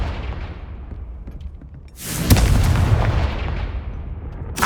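A Confringo blasting spell in the Hogwarts Legacy game erupts into a loud explosive burst, with a sharp crack followed by a sustained rumbling roar that lingers, then a second brief burst at the end.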